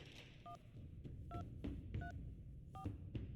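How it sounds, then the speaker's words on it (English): A telephone is dialed in the gacha game Reverse: 1999, a series of short, evenly spaced keypad tones beeping one after another over a faint, murmuring background. "Who are you dialing?"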